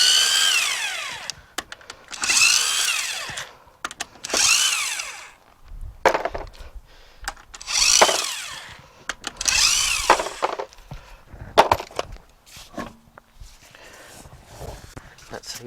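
Power tool spinning wheel nuts off a 2011 Vauxhall Zafira raised on a jack and axle stand, in several loud whirring bursts of a couple of seconds each, separated by short pauses and clatter.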